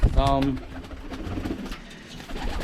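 Birmingham Roller pigeons coo softly inside a loft, a low throaty coo near the start followed by quieter shuffling and faint cooing in the background.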